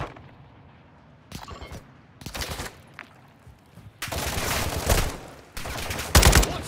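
Call of Duty: Warzone 2.0 DMZ gunfire cracks out in short, loud automatic bursts separated by brief quiet gaps, the bursts growing longer and heavier toward the end.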